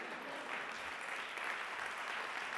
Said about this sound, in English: It's all right to clap.